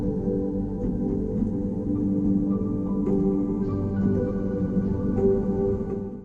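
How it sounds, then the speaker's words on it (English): A randomized granular ambient texture built from piano chords forms a dense, sustained wash with scattered soft grains and shimmering flickers, steady and moderately loud throughout with no voices. "turn them into randomized granular ambiances that sound something like this"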